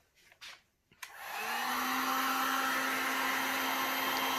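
A heat tool starts up after a couple of soft knocks and blows steadily and loudly onto a resin sunflower bowl, with a constant whirring hum and rushing air that holds to the end.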